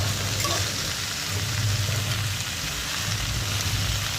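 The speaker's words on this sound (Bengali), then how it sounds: "তারপর আবার ভালোভাবে এটাকে নেড়ে চেড়ে" Amla pickle with jaggery is stirred in a pan, a steady frying sizzle with faint scraping and a low rumble underneath, continuous and fairly close.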